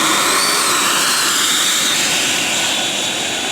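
An RC F-22 model jet's electric ducted-fan engine powers up with a loud, steady, close whine and rushing air that holds throughout.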